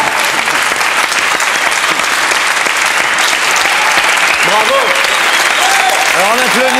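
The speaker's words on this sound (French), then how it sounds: "Alors on applaudit Salvador Dali, mesdames et messieurs" A TV studio audience applauds Salvador Dali, steady dense clapping filling the whole stretch with a host's voice speaking over it toward the end.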